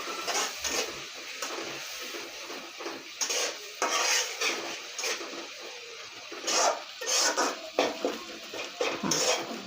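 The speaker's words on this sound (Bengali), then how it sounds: "এবার একটু নারকেলের দুধ দিয়ে দেব, দিয়ে আমি মশলাটাকে ভালোভাবে কষিয়ে নেব।" Spice paste is stir-fried with coconut milk in a pan for a coconut egg curry, the utensil clattering and scraping against the pot in uneven bursts over a low sizzle.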